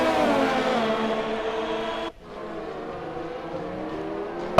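Onboard engine of a McLaren Formula 1 car in the F1 2020 video game during a wet Hungarian Grand Prix, a steady high-revving whine that cuts briefly, then resumes a bit quieter; continuous, close, no voices.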